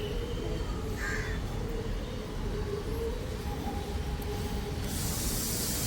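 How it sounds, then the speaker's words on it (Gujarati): A crow caws repeatedly over a terrace garden, the calls mid-distance and fairly clear above steady outdoor hiss and low rumbling background noise. "કાગડો ક્યારનો કાં કરે છે."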